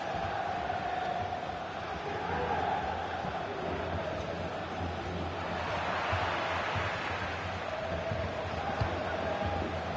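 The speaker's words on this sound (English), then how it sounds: "you can fully understand the crowd's reaction" A stadium crowd in the EA FC 25 football game gives a sustained, fairly faint murmur and roar that swells slightly midway and stays constant throughout.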